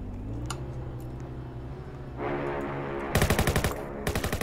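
Roblox gunfire comes in two rapid automatic bursts of sharp, evenly spaced shots after a stretch of low game hum and rising engine-like noise, with no talking.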